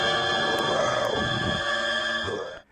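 Hulk transformation sting from the 1970s TV series, a dense, sustained dramatic swell with a low growling undertone, loud and continuous before cutting off at the end.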